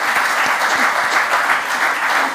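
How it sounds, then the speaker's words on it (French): Loud, dense applause from an audience at a public event in Mulhouse, France, a steady wash of many hands clapping that holds for a couple of seconds without pause. "ça mérite encore des applaudissements"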